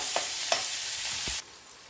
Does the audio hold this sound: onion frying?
yes